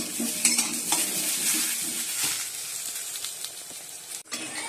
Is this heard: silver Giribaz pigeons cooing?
no